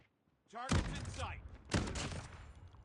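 Two heavy gunshot blasts from a sniper-style weapon in Call of Duty Mobile, spaced about a second apart, each a sharp loud crack with a lingering tail.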